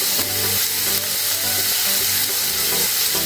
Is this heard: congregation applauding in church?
no